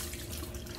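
Tap water runs steadily into a kitchen sink while raw chicken is washed, a soft continuous splashing hiss throughout the short moment.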